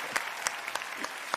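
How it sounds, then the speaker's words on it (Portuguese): A studio audience at a TV variety show claps in a short burst, with several sharp, separate hand claps standing out over a dense layer of applause. "Uma salva de palmas para o time do Thierry."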